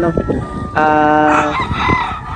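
A rooster at a gamefowl farm in San Ildefonso, Bulacan lets out a loud, close crow with a rising, drawn-out call, mixed with clucking and other fowl noise around it.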